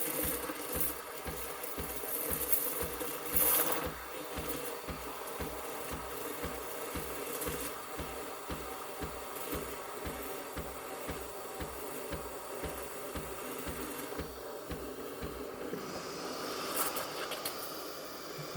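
The steam wand of a Breville Barista Express froths milk in a metal cup with a steady, rough hiss and gurgle that runs on for many seconds, with a low pulsing undertone, and no talking.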